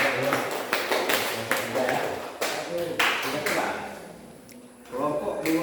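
Scattered hand clapping from a small audience at a group research presentation, with uneven claps sounding close over several seconds and a voice speaking over them.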